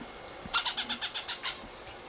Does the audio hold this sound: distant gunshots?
no